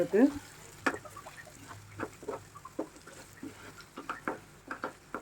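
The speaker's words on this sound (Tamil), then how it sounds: "பொறுமையாக கிளறி விட்டணும் பாருங்கள்" Brinjal curry is stirred in oily gravy in a pan, giving a series of soft, scattered scraping and spatula clicks over a low, steady frying sizzle.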